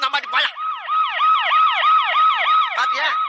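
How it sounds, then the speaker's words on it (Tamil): Siren wailing in a Vadivelu comedy film, a loud, near, repeating up-and-down wail of even cycles, with brief speech at the start and end. "பாத்தியா, சைலன்ஸா பேசுறதுக்கு சைரன் அலறுது பாரு"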